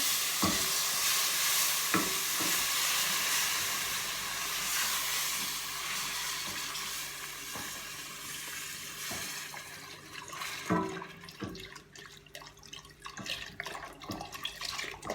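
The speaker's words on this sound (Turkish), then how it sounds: "Hemen şöyle sütümü yavaş yavaş ilave ederek" Milk pours slowly into toasted flour in a pan while it is stirred, a close wet sizzle and swishing with repeated spoon taps on the pan edge, growing busier and more splashy toward the end.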